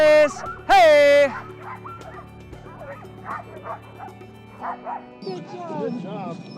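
A large pack of sled dogs barks, yips and whimpers excitedly. One loud howling bark stands out near the start, with a chorus of eager voices continuing behind it and a person calling out among them.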